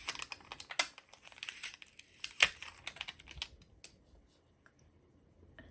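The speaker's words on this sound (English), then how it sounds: "So we're just going to peel off our tape." Tape peeled off a wooden bezel, heard as faint crinkling and a few sharp ripping snaps close by, then quieting to near silence.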